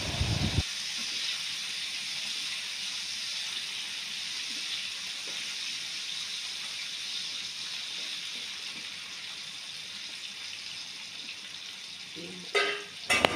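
Potatoes fry in hot oil in a pan, giving a steady, even sizzle and hiss that runs throughout, with a brief clatter near the end.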